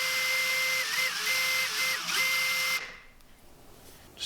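A buffing wheel runs steadily against a fishing lure coated in polishing compound, giving a loud, even whirring hum with slight wavers for about three seconds before it cuts off and leaves quiet room noise.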